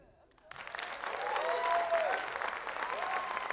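After a brief quiet moment, a comedy show audience breaks into sustained applause that swells and holds, with scattered cheers mixed in.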